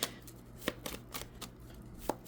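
A few quick, papery riffles of cards being shuffled, close and fairly quiet, with short pauses between bursts.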